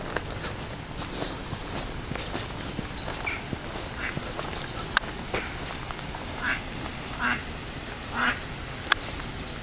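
An adult female mallard with her ducklings gives soft, scattered quacks and peeps over an outdoor background hiss, with a couple of sharp clicks standing out.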